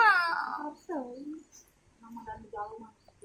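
A kitten gives thin, high mews close by, mixed with soft talking in the background.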